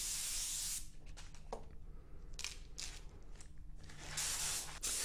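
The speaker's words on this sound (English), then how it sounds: "Now I'm coming in with pearl silver, and I'm shooting the pearl silver over my base coat sealer grey mix" An airbrush sprays AutoAir Colors pearl silver paint over a sealer grey base coat in two bursts of steady close hiss, one at the start and one at the end, with quieter clicks and shuffling between them.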